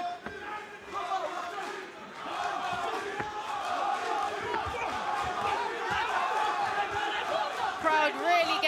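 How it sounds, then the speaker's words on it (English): A fight crowd roars and shouts continuously behind two young boxers, a dense, steady wall of voices and chants with sharp claps and yells popping out, building slightly louder toward the end. "Crowd really getting behind Hamami now"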